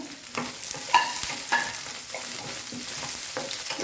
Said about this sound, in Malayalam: അപ്പോൾ നമുക്ക് സവാള ഇട്ട് കൊടുക്കാം. നേരത്തെ കാണിച്ച സവാള ചോപ്പ് ചെയ്തതാണ്.